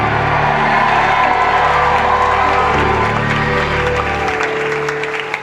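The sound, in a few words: church congregation clapping and shouting Amen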